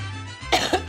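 Three quick, harsh coughs in close succession, near and fairly loud, from a person preparing cilantro for a Mexican street corn salad, following a moment of low background hum.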